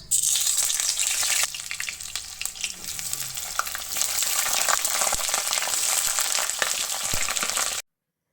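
Oil crackles loudly in a kadai as pieces are fried, a dense continuous sizzle with scattered pops and occasional stirring scrapes, close and without voices, cutting off abruptly at the end.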